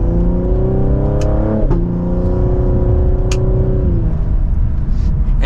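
A 2024 Cadillac CT5-V sedan pulls away from second gear, its engine note rising steadily in a loud, close harmonic drone, dipping briefly at a shift before climbing again, heard from inside the cabin.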